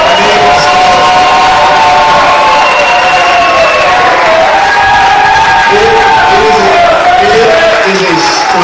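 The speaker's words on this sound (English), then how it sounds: "So one more time, a round of applause for Megan Spalding." A crowd cheers, whoops and shouts continuously at a startup competition final, loud and sustained throughout, with applause mixed beneath the voices.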